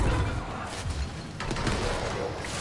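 Gunfire in the video game Control: a burst of rapid cracks and crashes over a dense, noisy game soundscape, moderately loud with no talk.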